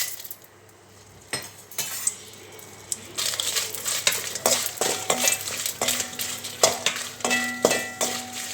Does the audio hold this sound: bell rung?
no